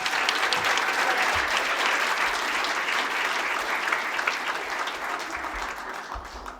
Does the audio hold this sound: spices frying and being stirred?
no